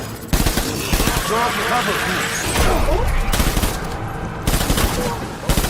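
Rapid automatic gunfire in Death Stranding, sustained dense bursts close and loud with brief pauses, while voices shout over the shooting.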